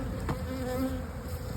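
Bees buzz steadily around an open hive as it is split into smaller colonies, a dense close swarm hum with a brief rustle early on and no talking.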